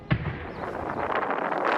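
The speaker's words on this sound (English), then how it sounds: "Explosions erupting across Puerto Vallarta tonight." Explosions over Puerto Vallarta, the resort city on Mexico's Pacific coast, captured in news footage: a sharp boom at the start gives way to a dense, continuous crackling rumble that holds steady throughout.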